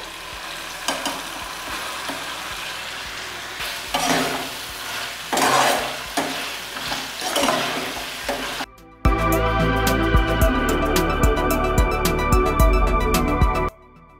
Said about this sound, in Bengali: এবার আমি হালকা করে ভেজে রাখা পনিরগুলো দিয়ে দেবো।